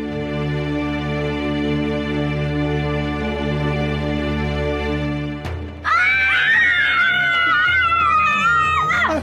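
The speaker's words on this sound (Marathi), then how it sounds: "अरे किंचाळायला काय झालं?" A person screams loudly after a stretch of sustained musical tones, the wavering, pitched cry rising abruptly and continuing for several seconds, close and dominant.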